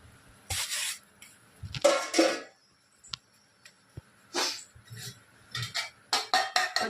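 Broken raw rice is tipped into boiling water in a pot, giving several brief pouring hisses and rattles with a few light clinks of utensil against metal, close and alone without talk.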